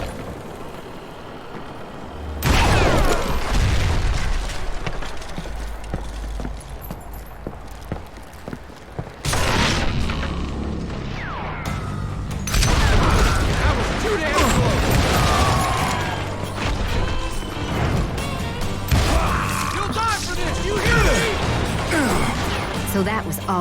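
Dynamite charges going off in the Western shooter Call of Juarez Gunslinger, several heavy booming crashes with rumbling debris and clattering across a long stretch, loud and close, with voices talking amid the noise.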